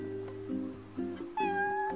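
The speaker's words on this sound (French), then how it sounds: "C'est un putain de chat!" A cat in the video game Final Fantasy XV meows several times in short, tonal calls, fairly close and clear, over a steady humming backdrop with no talking.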